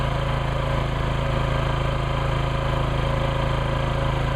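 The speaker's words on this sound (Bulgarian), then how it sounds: "Това са пределните вибрации, които ще прави драгата." A dredge's engine runs steadily close by, a continuous loud mechanical drone with a fast, even vibration pulse and no pauses or voices.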